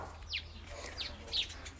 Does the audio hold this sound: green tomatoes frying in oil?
no